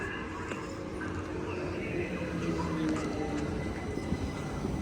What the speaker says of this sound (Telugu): మాటల్లోనే ట్రైన్ అయితే వచ్చేసింది